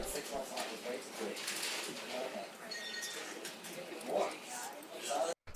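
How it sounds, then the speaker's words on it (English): Background room tone recorded in an office, a steady broadband hum under indistinct chatter from several people, with a few brief louder bumps and voices rising near the end before a sudden cut. "So what this is it's a recording of an office."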